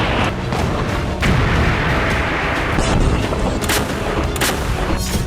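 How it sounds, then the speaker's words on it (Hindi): Tank and artillery fire in war footage from eastern Ukraine, a dense, loud, continuous roar of blasts and rumbling booms with sharp cracks layered throughout. "पुतिन की पलटन उस पर बारूदी प्रहार कर देती है।"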